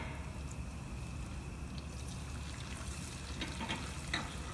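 Shrimp frying and being stirred in a pan with sauce for a Malaysian dish, giving a steady, fairly quiet sizzle with faint scraping and liquid sounds throughout.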